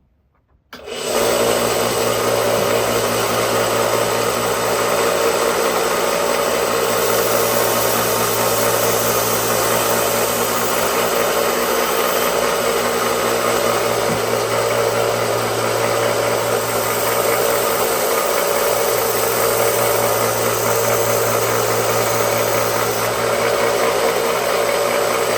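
A belt grinder with a worn 400 grit belt runs at a steady roar, putting a new edge on a vintage pocket knife blade, a continuous loud hum and whine throughout with no speech.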